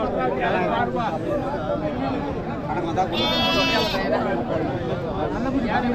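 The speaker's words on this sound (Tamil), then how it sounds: "ஒரு அஞ்சு கிடா கொண்டு வந்திருக்காங்க எல்லாமே பல்லு வைக்காத கிடாங்க" Young male goats bleat loudly and close at a crowded Monday livestock market in Natrampalli before Deepavali, with several overlapping cries over constant crowd chatter.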